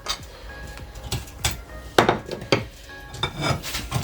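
A metal utensil knocks and scrapes against a pot or bowl while spices go into a yellow sauce, a series of irregular clinks and scrapes, fairly close, with no talking.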